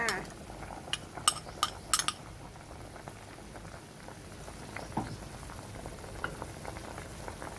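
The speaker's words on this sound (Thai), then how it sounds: "เดี๋ยวเราเคี่ยวไปสักระยะก่อนค่ะ" A pot of pork bone and bamboo shoot soup simmering, a soft steady bubbling with a few early clinks of utensils against the pot, fairly quiet and close.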